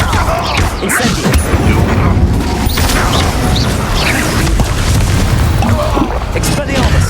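Incendio fire spell cast during combat in the Hogwarts Legacy video game, a burst of magical fire amid dense, continuous game effects with booming, mechanical impacts.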